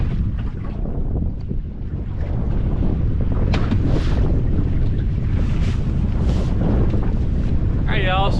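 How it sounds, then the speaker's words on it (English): Wind buffets a microphone on a lake while fishing from a boat, a steady loud rumbling roar with gusty swells and some faint background sounds. "It's a little bit more windy down here, so bear with me."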